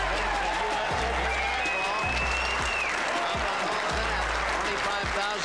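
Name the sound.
crowd cheering and applauding at a pool match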